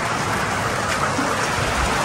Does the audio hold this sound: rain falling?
yes